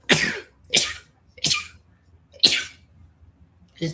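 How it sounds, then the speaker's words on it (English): A sneezing fit: five sharp, explosive sneezes spaced roughly half a second to a second apart, each loud and close with brief quiet gaps between. "How did I get a sneezing fit?"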